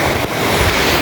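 A flowing river where boys are bathing and swimming gives a steady, loud wash of rushing water, a continuous broadband roar close to the microphone with no voices.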